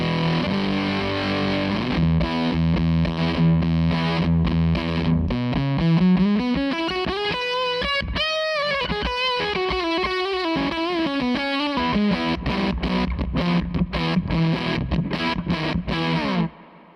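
An electric guitar played through a Zander Circuitry Cafetiere V3 distortion pedal plays chugging low riffs, then a rising and falling melodic run, ending in tight palm-muted chops, loud and alone.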